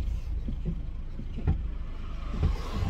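A 2000s-era Chevrolet Cobalt, an $800 used car, accelerates up to speed, giving a low engine and road rumble inside the cabin with some wind buffeting and a faint thump.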